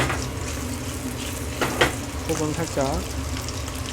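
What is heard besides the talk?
squid body frying in butter and oil for paella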